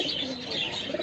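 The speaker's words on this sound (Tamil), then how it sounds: "இது வந்து சாதா புறா தான்." An ordinary pigeon coos softly at a bird shop that sells pigeons and love birds, its low murmur set in a busy bed of chirps and faint flutter.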